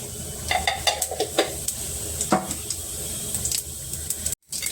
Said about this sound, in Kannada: ಒಂದು ಸ್ವಲ್ಪ ಜೀರಿಗೆ ಹಾಕ್ತಾ ಇದ್ದೀನಿ ಒಗ್ಗರಣೆಗೆ